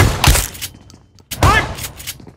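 Gunfire in the mobile battle-royale game BGMI: two loud bursts of rapid shots, one at the start and another about a second later, with quieter shots trailing after each burst.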